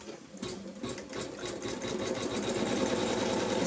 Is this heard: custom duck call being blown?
no